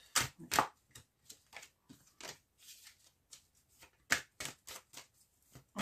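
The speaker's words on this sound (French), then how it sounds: "Je vais faire un tirage de 9 cartes également." Tarot cards shuffled for a nine-card spread, a run of crisp riffling bursts and soft slaps in a steady broken rhythm, close and fairly quiet, with no talking.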